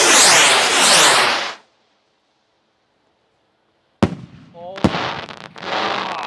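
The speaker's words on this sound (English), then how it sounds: "that's big time fireworks right there" Firework rockets burst loudly: first a long, dense crackling shower, then a few seconds of silence, then sharp, close bangs followed by fizzing crackle.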